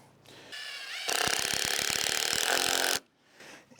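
A power drill drives a screw into wood while building saw horses, one loud sustained burst of about two seconds with a chattering whine that cuts off abruptly, brief quieter handling before and after.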